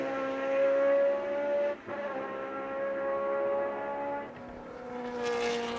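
Formula One race cars from 1978 at the BRDC International Trophy, engines screaming in a steady high-pitched drone with shifting tones as they pass under a bridge into a chicane, with a brief dip and a gear change along the way.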